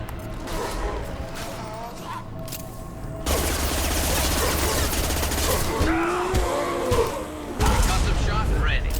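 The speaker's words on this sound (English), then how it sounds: "Thank you for the concussive shot, Garrus" Concussive shot ability going off in the video game Mass Effect 2, a loud booming blast amid ongoing combat noise and gunfire, with a second heavy impact near the end; a voice talks in places.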